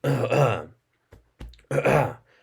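A man's throaty cough-like noises, a couple of rough bursts separated by brief pauses, close and fairly loud.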